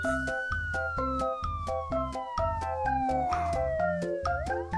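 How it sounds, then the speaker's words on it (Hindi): A police jeep siren wails continuously in a rising and falling pattern, loud and close, with a pulsing rhythmic beat underneath. "पीयू पीयू पीयू की सायरन की आवाज के साथ एक सफेद पुलिस की जीप महावीर ज्वेलर के सामने आकर रुकी"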